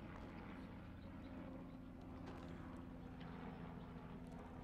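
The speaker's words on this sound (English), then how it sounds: "Now we have a helicopter." A helicopter passes overhead, producing a steady, continuous low rotor and engine drone that holds at an even level throughout, with no speech.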